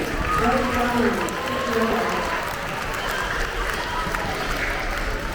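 A school assembly audience cheers and applauds with loud, sustained clapping and voices. The sound is steady and dense before it gradually settles.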